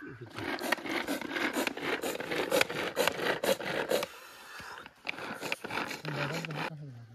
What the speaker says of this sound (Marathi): रडता रडता कांदे कापतो.